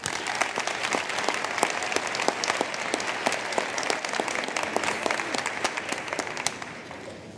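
Sustained applause from an audience welcoming a fifth grade choir at an MLK Day celebration, many hands clapping steadily and densely for the full stretch with no talk over it.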